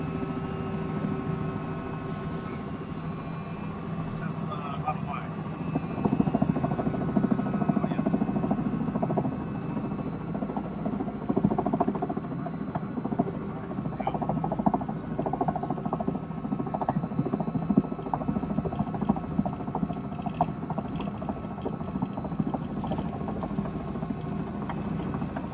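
A helicopter hovers and descends to land near a hotel, its rotor chop and turbine hum continuous and loud in the cabin, with a steady whine throughout.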